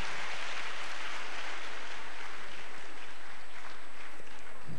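A church congregation claps together during a deliverance service, a broad steady wash of hand claps that fills the whole stretch at a moderate, even level without clear gaps.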